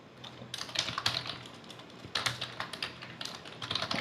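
Computer keyboard typing while writing React code with Material UI: bursts of quick, close clicking keystrokes, alone with no talk, in several clusters separated by short pauses.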